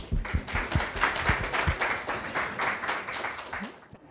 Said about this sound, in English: So we welcome him by clapping.